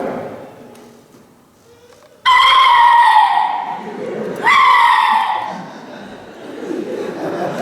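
A man imitates a turkey gobble with his voice in two loud, rapid, warbling bursts after a quiet lead-in, followed by softer trailing sounds.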